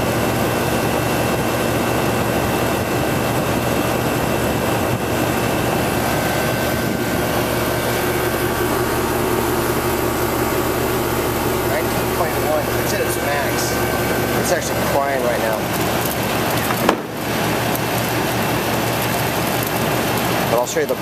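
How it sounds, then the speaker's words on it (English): A small 2-ton air conditioner blower pulls air through the evaporator, giving a loud, steady rushing whoosh that runs unbroken, with a brief dip near the end. "This is our little 2-ton blower, just enough to pull the air through the evaporator."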